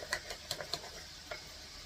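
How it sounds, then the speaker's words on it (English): A whisk stirring a dry flour mixture for fish batter in a bowl: a handful of quick, light, scratchy taps in a short uneven rhythm, close and faint, with no voices. "now we're going to whisk this together"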